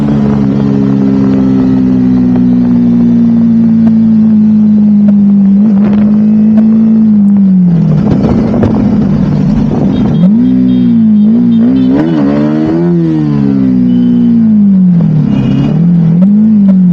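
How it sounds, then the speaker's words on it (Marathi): A motorbike engine drones loudly and steadily close up, its pitch rising and falling as the rider speeds up and slows, with wind and road noise, riding through heavy rain. "कशी बाईक चालवली बघा आता फक्त"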